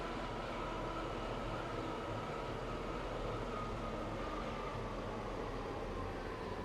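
A train rumbles steadily on the rails in a video game, a Class 170 heard from inside, a dense continuous roar and rattle with no voices and no clear change in pace.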